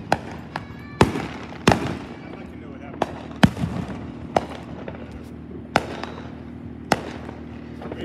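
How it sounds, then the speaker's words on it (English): Small Independence Day fireworks pop and crackle in a series of sharp, separate bursts spaced a second or so apart, mid-distance over steady outdoor background and occasional voices. "little fireworks happening there"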